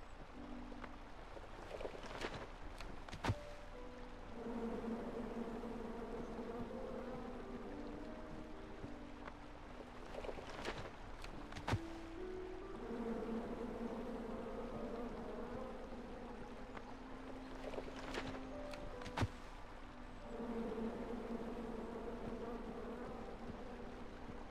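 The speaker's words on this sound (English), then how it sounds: "Then you chop down the tree full of angry bees?" Swarm of angry bees buzzing around a tree in the King's Quest video game, a continuous droning hum with wavering pitch, steady and fairly loud, with occasional sharp clicks and no talk.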